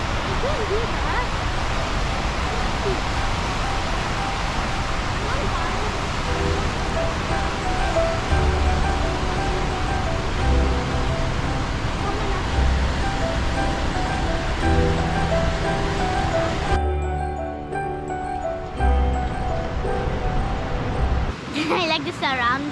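Godafoss waterfall in Iceland, where three falls drop side by side, roars in a steady, broad rush of water heard from nearby. Voices talk over it at times.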